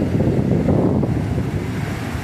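Waves surge and wash on the Tyrrhenian Sea while wind buffets the microphone, a loud, steady rushing roar with no talking.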